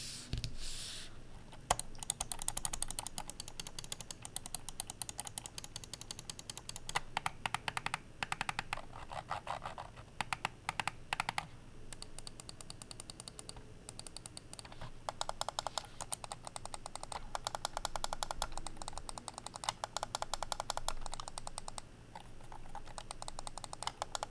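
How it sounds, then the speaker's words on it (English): Button clicks from a Corsair Sabre RGB Pro gaming mouse, sharp rapid clicking in dense bursts and runs with brief pauses, close and crisp, continuing for over twenty seconds. "I'd say that the mouse clicks feel really sharp and really snappy."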